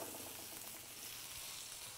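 Steak searing in a pan with garlic and juices, a dense, hissing sizzle heard close and steady throughout, without speech.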